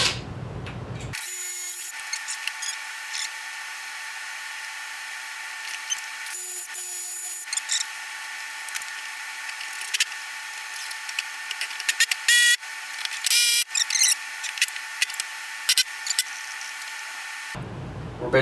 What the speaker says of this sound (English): So let's just go ahead and drill a hole real quick.